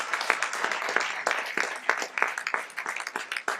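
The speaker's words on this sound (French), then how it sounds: "On peut lui donner une bonne main d'applaudissement" An audience gives a percussionist a round of applause at a Christmas concert, with steady, dense clapping that stays close and full throughout.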